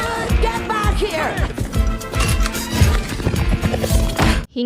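Horse hooves clatter as a carriage is pulled in an animated chase, a fast, busy rhythm of hoofbeats mixed with wheels, crashes and dramatic music throughout.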